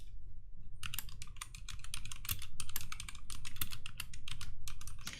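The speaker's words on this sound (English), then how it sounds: "I'm going to type it in." Rapid typing on a computer keyboard, a steady run of close, crisp key clicks that starts after a brief quiet moment and continues without pause, with no voices present.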